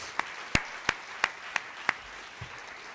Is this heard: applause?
yes